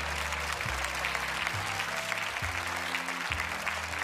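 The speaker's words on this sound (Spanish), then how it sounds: "Un gran aplauso para Pancho." Audience applause at a Got Talent Chile audition fills the room with dense, steady clapping throughout, loud and unbroken, with a low musical backing underneath.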